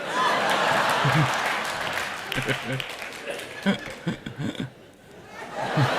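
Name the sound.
audience applause in a played comedy talk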